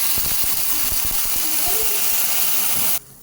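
Hot water poured into a pan of rava upma made from gluten-free wheat rava, a loud steady hiss and gush of steam with faint clinks and bubbling underneath, cutting off abruptly near the end.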